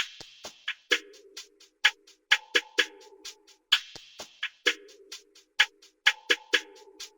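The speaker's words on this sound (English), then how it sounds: "I just had this Perc Loop right here" Percussion loop from the Jumpstar V5 kit in FL Studio for a smooth R&B beat: crisp, bright clicks and hits in a steady syncopated pattern, repeating about every two seconds, dry and up front with no voices.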